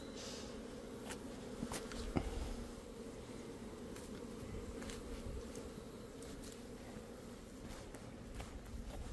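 Asian giant hornets at a beekeeper's apiary, a faint continuous insect buzz with a few sharp, brief clicks and taps scattered through it, no voices.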